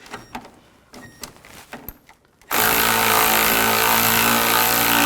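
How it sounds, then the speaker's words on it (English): Power tool tightening the nut on a sway bar link of an 08-14 Cadillac CTS, a few light clicks and knocks followed by a sudden loud, continuous whirring buzz. "tighten the nut down."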